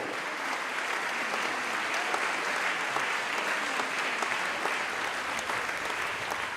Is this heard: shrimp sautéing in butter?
no